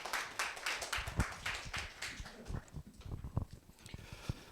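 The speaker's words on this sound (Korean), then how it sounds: "박수" A youth church congregation at a Sunday service bursts into steady, enthusiastic applause, dense close clapping that carries on throughout with a few stray voices.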